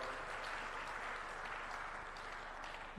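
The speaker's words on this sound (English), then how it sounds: "A big round of applause to him as well." Sustained, dense applause from a large audience at an international eLearning Africa conference in Tanzania, honoring the education minister; steady and moderately loud throughout, with no voice standing out.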